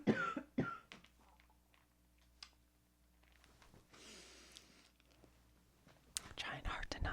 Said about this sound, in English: Trying hard to not get into a coughing fit.